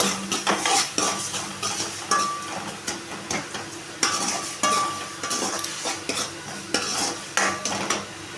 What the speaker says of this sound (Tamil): வெங்காயமும் தக்காளியும் நல்லா வணங்கட்டும்.